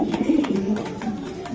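A racing pigeon coos in a few soft, throaty, wavering notes close to the listener, clear and fairly loud, with no talking over it.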